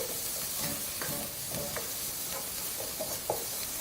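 Fresh parsley and herbs, torn into loose chunks, fry in a pan with cauliflower, giving a steady soft sizzle with occasional stirring scrapes close by, no talking.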